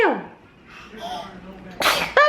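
Voices murmur softly, then a sudden, sharp sneeze bursts out near the end, followed by more speech.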